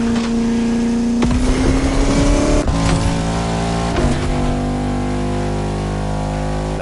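A Bugatti La Voiture Noire in The Crew Motorfest drives by with a loud, steady engine drone. Its pitch climbs, then drops sharply at each gear change, with no talking.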